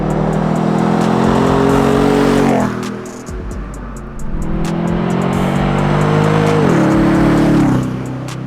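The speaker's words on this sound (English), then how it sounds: "This exhaust not only sounds deep and throaty," A 2016-or-newer Nissan Titan pickup with a Z1 Off-Road performance exhaust revs loudly and close by, its deep engine note holding steady, dipping briefly near the middle and then climbing again.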